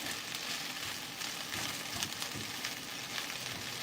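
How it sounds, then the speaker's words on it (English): Spinach sautéing in a very hot pan gives a steady, bright sizzle and crackle with small spits and pops, close and fairly quiet, with no voices. "You just want to quickly saute your spinach."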